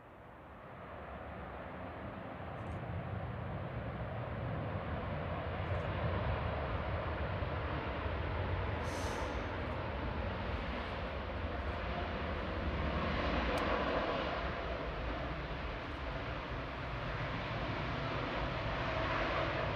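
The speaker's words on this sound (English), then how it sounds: "Lady Emmeline, touching down, A350 1000." Virgin Atlantic Airbus A350-1000 touching down at Manchester Airport, a steady broadband jet roar that swells gently over about twenty seconds and holds loud throughout, with no voices.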